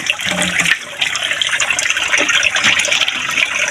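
Water gushes loudly and steadily into a container, a close, continuous rushing splash with bubbling that barely varies across the few seconds.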